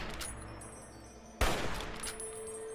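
In Fallout 3, gunfire is aimed at a Super Mutant Gargantuan: one sharp, loud shot cracks out midway over a steady low game ambience, followed by a decaying tail.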